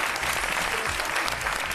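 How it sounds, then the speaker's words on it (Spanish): Studio audience applause on a Spanish television cooking competition set, dense and steady throughout, with no voices over it. "Un aplauso para Ander"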